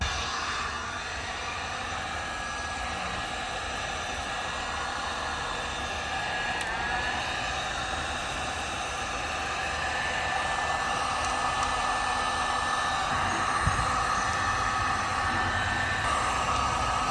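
A heat gun shrinks heat shrink tubing over repaired wiring on a Busa motorcycle, giving a steady, close blowing hiss that runs unbroken for about seventeen seconds with no talking.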